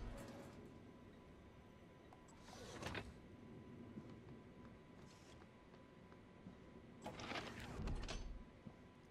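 A sliding door opening in the sci-fi video game Prey, heard as two mechanical whooshing slides a few seconds apart over a steady low ambient hum, moderately loud and without talk.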